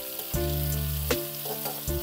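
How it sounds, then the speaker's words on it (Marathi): Papdi beans and mixed vegetables sautéing in a pan for a traditional Makar Sankranti bhaji, a loud steady sizzle with a brief stirring scrape partway through, no voices. "त्या बरोबरीने घालूया पापडी, परतून घेऊ।"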